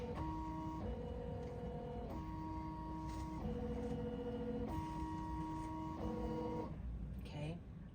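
A Ricoma EM-1010 embroidery machine on a test run stitching a baby denim jacket, heard as a steady mechanical hum with pulsing tonal beeps in a regular pattern, fairly close and continuous.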